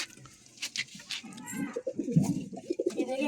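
A high flyer pigeon coos in soft bursts, low throaty calls rising and falling close by, with light rustling between them.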